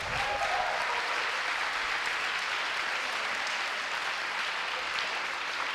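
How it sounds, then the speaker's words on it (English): An audience at a comedy roast show claps in sustained, even applause that stays at a steady level throughout, without anyone speaking. "Let's get a round of applause for Vish."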